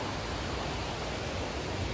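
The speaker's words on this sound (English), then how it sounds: "I'm hiking right next to this beautiful river right now with all these waterfalls, and the sound is so peaceful." A river with waterfalls beside a forest hiking trail on the Appalachian Trail near Salisbury, Connecticut, a steady broadband rushing roar of water, close and continuous with no break.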